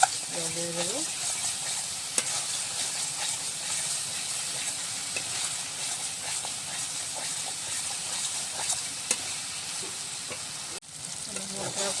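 Spice paste frying in oil in a pan for a thin tilapia and potato broth, with a steady close sizzle and hiss under repeated stirring scrapes and a few sharp clinks of the spoon against the pan, no voices.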